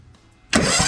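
Quiet pause, then a small tractor's newly fitted engine abruptly starts cranking with a loud, rough churning that continues to the end.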